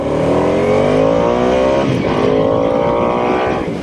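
A Harley-Davidson Nightster motorcycle, a 90-horsepower bike, accelerates hard with a loud, steady engine note whose pitch climbs smoothly through the revs, continuous and close for the whole stretch with no talking.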